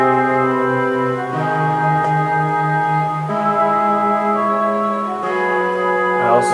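A Steinberg virtual instrument bundled with Cubase plays sustained, layered synth chords that shift harmony every second or two, with a steady, rich tone throughout and no voices.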